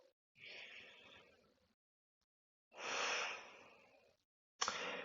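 Two long, deep breaths during a seated neck stretch for golfers, each a slow breathy inhale-exhale rush lasting over a second, close and clear, with a short third breath starting at the end; no talking.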